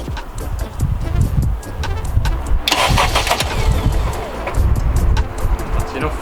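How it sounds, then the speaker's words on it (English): An FN2 Honda Civic Type R engine cranks briefly, then catches and fires up, settling into a loud, steady idle close by, with no one speaking over it. "Now obviously the pump's gonna start when I'm turning the engine over"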